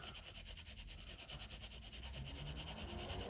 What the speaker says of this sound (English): I'm just gently rubbing this over the top.